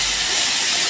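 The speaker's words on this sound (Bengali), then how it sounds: "ওই মাছ ভাজার তেলের মধ্যেই আমি দিয়ে দেবো ফুলকপি।" Cauliflower drops into hot oil left over from frying pomfret fish, giving a loud, dense, steady hiss of sizzling oil that fills the whole moment with no pauses.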